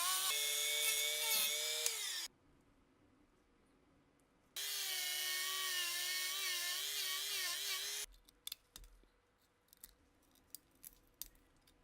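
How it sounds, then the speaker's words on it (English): A power wire wheel scrubs rust from a seized Walther P38 pistol, whining loudly in two sustained runs with a quiet pause between them, then fading to scattered scraping and clicks. "The wire wheel cleans the cuts."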